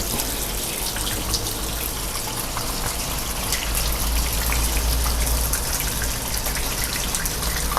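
Tap water rushing through the inlet hose into a twin-tub washing machine, a steady, even hiss that holds at one level throughout with no voices.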